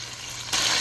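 Ginger garlic paste and onion fry in a hot pan, a steady close hiss that suddenly swells into a louder, brighter sizzle partway through the short moment.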